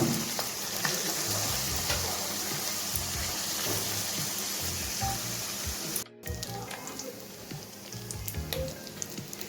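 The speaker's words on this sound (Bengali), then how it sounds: "মাছটা আমি সর্ষের তেলে না সাদা তেলে ভাজবো" Small kachki fish frying in white oil, giving a loud, steady close-up sizzle that cuts out briefly partway through and then resumes with scattered crackles.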